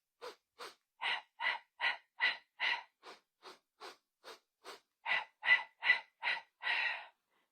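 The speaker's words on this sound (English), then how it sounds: "So our hundreds breathing is 5 sniffs in and 5 sighs out." Pilates hundreds breathing: a steady series of about seventeen short, sharp breaths, sniffs in and sighs out at an even rhythm, close and alone with no talking.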